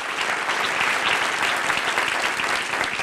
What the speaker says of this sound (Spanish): dale otro aplauso a Jesucristo